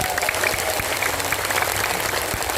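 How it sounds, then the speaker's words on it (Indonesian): An audience at an Islamic preaching gathering in Klecorejo, Madiun, claps for Banser, producing continuous, loud, crackling applause with no pauses. "Tepuk tangan untuk Banser"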